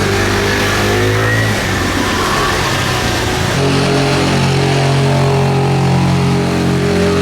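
A 12-cylinder 1.5-liter Ferrari racing car engine at a Monaco historic Grand Prix, loud and close, holding a steady high-pitched wail before the pitch shifts mid-clip and climbs again as the engine revs.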